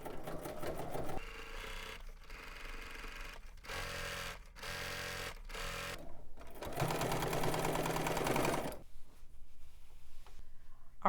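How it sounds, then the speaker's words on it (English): Fitted with an edge stitch foot, a sewing machine edge-stitches a ribbon in place in a series of loud, close whirring runs broken by brief stops, ending in a quieter stretch. "now we're going to edge stitch this ribbon in place, and I've switched it out to my edge stitch foot"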